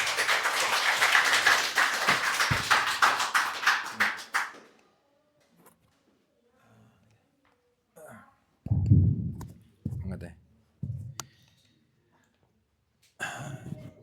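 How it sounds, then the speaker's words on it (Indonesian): An audience at a writing talk claps briskly for about four seconds, close and dense, then it stops and a voice speaks in short bursts over near silence. "beri tepuk tangan untuk semua."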